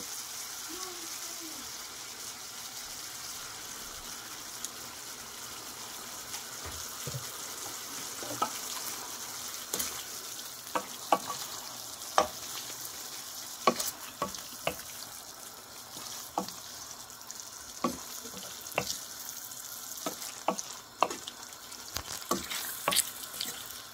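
Veggie pasta in tomato sauce, Indian desi masala style, sizzling steadily in a pan while a spoon scrapes and taps the pan in scattered strokes, close and moderately loud.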